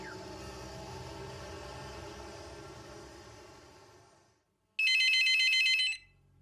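A sustained tonal drone fades into silence, then an electronic telephone ring sounds sharply for about a second, a bright, rapidly warbling trill that stops abruptly, in a TV drama scene.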